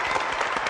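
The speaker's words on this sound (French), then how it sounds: "Bravo Annie, bravo Brigitte, applaudissements pour ces trois jeunes gens qui ont été lamentablement battus." Studio audience applause on a French TV game show, a dense, steady wash of clapping filling the whole short moment at even loudness with no talk over it.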